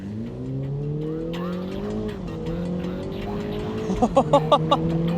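A flood-damaged BMW G29 Z4 roadster engine revs hard, its pitch climbing steadily, dipping briefly at a gear change, then rising again, loud and close.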